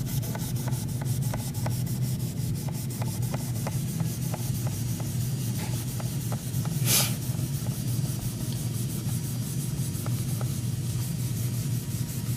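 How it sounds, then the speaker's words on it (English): Repeated soft rubbing and scrubbing strokes of a paper towel wiping a guitar fretboard, over a low steady background hum, close up and fairly quiet. "some paper towel and clean it off"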